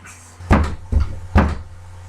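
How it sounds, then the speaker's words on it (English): Three knocks on a wooden door, evenly spaced, sharp and close, in a staged reading of Macbeth. "Knock, knock, knock. Who's there?"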